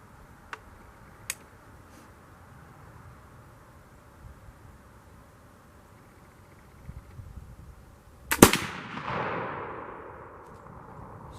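A flintlock longrifle fires once at a target about 23 yards away outdoors, a loud sharp crack with a long decaying boom, preceded by a few faint clicks of the lock in near silence.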